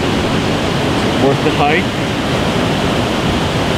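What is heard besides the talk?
waterfall at Western Brook Pond, Gros Morne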